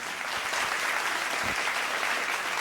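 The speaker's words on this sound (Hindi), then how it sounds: "सारी तालियां टीम ए के लिए होनी चाहिए।" An audience at a televised Ramadan quiz show applauds the winning team, a dense, even wash of clapping that stays steady and fairly loud throughout, with no talking.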